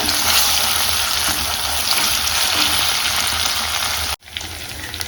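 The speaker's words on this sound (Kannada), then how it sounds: "ಸೊ ಲೋ ಫ್ಲೇಮಲ್ಲಿ ಈ ಥರ ಚೆನ್ನಾಗಿ ಫ್ರೈ ಮಾಡಿ 1 ಮಿನಿಟ್ವರೆಗೂ ಚೆನ್ನಾಗಿ ಫ್ರೈ ಮಾಡ್ಕೋಬೇಕು ನೀವು ಇದನ್ನು" Food fries on a low flame in a pan for egg rice, a dense, steady sizzle close by that cuts off sharply near the end and then resumes.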